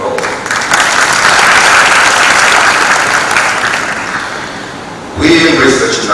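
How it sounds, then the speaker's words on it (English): A large audience at a diplomatic conference on the U.S.-Tanzania partnership breaks into loud, sustained applause that swells, eases slightly, then surges again near the end. "For that, we deserve a round of applause"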